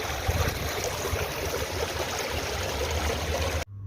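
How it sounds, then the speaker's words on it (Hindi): Water flows steadily in a fountain at the Sheikh Zayed Grand Mosque, a close, even rushing hiss with no voices, cutting off abruptly at the end. "ये देखें पानी की आवाज़ कितनी अच्छी लगती है आपको।"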